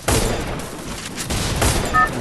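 Several sharp bursts of Free Fire video game gunfire crack out in quick succession, loud and close, with short gaps between volleys.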